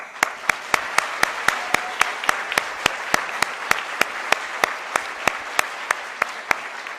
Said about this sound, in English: let's give a big round of applause to everybody now